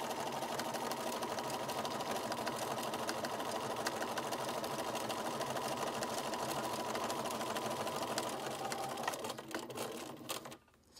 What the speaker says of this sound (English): I'll just put my presser foot back down and continue sewing down